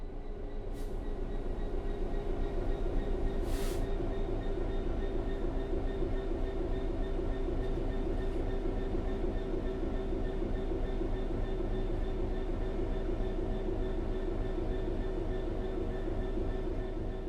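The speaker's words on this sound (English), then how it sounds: "The train will then coast on level ground, and the train will only slow down very gradually." A train in the video game Train Sim World 3 coasts steadily on level rails with a constant low rumble and hum, a few faint squeals and clicks breaking through now and then.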